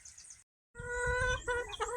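Chickens in a shed fitted with nesting boxes give a brief burst of harmonic clucking and calls, close and moderately loud, after a short silent gap.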